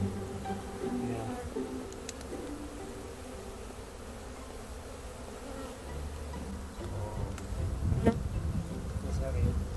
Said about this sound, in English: Oh, and tons of bees.